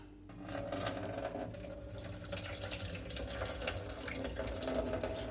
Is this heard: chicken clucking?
no